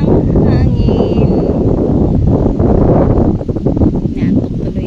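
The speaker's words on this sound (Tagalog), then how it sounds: "Eh, mahangin. Sobrang hangin, guys." Strong outdoor wind buffets the microphone in a steady, loud low rumble, with a voice talking over it throughout.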